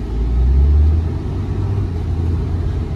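A 2018 Dodge Ram 5500 HD 4x4 with a Cummins diesel pulls away, giving a deep steady low rumble. A brief swell is heard early on, then the rumble settles into a constant drone with no talking.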